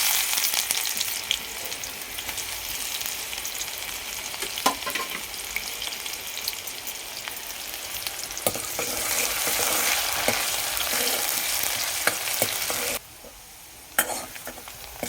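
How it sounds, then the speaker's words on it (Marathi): Onion frying in hot oil in a pan over a traditional wood-fired clay stove, a steady loud sizzle with scraping stirring strokes, briefly dropping away near the end before resuming. "तर हे कांदा चांगला सोनेरी कलरवर आपण परतून घेतलाय"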